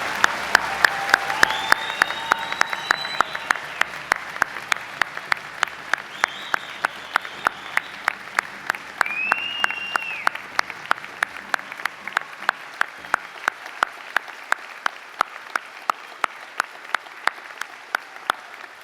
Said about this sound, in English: join me in applauding each of you on the completion of your programs